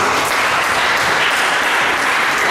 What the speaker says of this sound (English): Please clap for them once again.